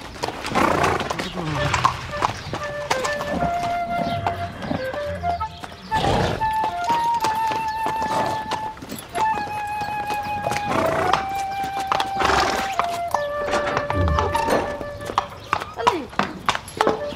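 A horse in a stable neighs while hooves clip-clop on the floor, heard under people talking, with music playing in the background.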